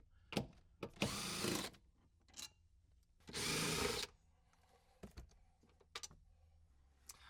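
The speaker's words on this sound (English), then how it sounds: "We're going to use a T50 star bit to remove the 4 bolts out of the front seat." Power driver with a T50 star bit backing out the front seat bolts of an Ineos Grenadier, two short whirring bursts separated by clicks and knocks, quiet and close.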